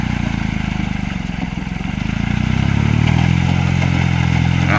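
A Kubota L2002 tractor engine runs steadily while tilling a flooded rice paddy. The loud, continuous diesel drone holds close and gains a deeper, heavier tone about halfway through, with clattering over it.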